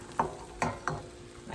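A thin layer of egg frying in a pan, soft sizzling with three brief scraping stirs of a utensil, quiet and close.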